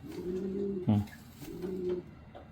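A racing pigeon gives soft, low coos in two rounded phrases with a brief sharper note between them, close by and heard alone.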